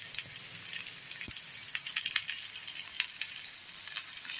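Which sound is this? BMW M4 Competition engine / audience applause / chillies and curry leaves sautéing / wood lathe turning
chillies and curry leaves sautéing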